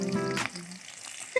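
Sliced onion sizzles in a pan of hot oil, a short close crackling hiss that fades slightly toward the end, with no voices.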